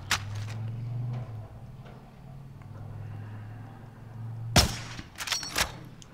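Gunfire in the video game Call of Duty: Warzone, with a sharp shot near the start and a loud crack later followed by a short cluster of bursts over a low engine-like drone.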